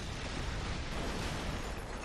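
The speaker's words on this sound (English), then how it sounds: "Yeah, big explosion." A big explosion in the shooter game Far Cry 3 roars as a dense, sustained blast of broadband noise filling the whole moment without a break.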